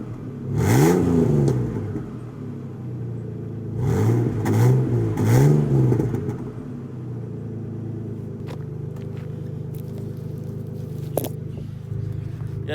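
Car engine revved repeatedly during a cold start, fitted with a high-flow catalytic converter, giving three rising-and-falling bursts of deep exhaust roar that settle into a steady, rumbling idle close by.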